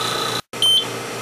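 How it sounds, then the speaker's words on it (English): A DryVap concentrator gives a single short, clear electronic beep over a steady hum of machine noise, following a brief silent gap. "So that beeping sound you hear,"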